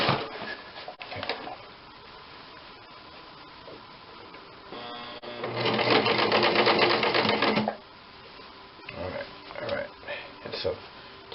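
A sewing machine runs a seam on a nun's wimple collar, with a loud continuous whir of stitching for a couple of seconds mid-clip between quieter handling sounds and someone talking.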